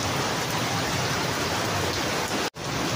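Heavy rain pouring down in a dense, steady hiss that stays loud and unbroken apart from one brief dropout near the end, with no voices.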